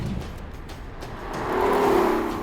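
A BMW i8 supercar's small three-cylinder engine revs up, its note rising and swelling into a loud, sustained pitch over the final second, with no talk over it.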